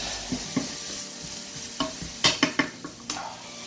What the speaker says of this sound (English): fry up all that onion